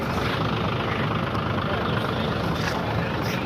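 A cargo truck idling steadily during goat loading, a continuous dense low rumble close by with broadband noise and no clear breaks.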